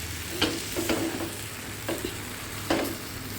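Egg-roll batter ladled onto a hot tawa and spread around, giving soft sizzles with a few brief scraping strokes at a steady low level. No one speaks.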